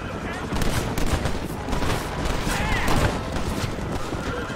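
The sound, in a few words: gunshots in video game Red Dead Redemption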